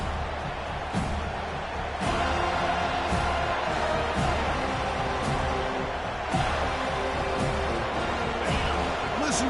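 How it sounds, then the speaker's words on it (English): A stadium crowd at a college football game keeps up a loud, steady roar, with periodic thuds and scattered cheers rising through the din. "Listen to the crowd energy here in the early going"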